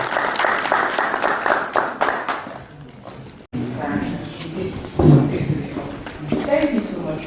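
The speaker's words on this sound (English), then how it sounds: "a round of applause" A seminar audience at a Democracy Day event applauds for about three seconds in a dense, steady burst, then the clapping breaks off and a person starts speaking close to the microphone.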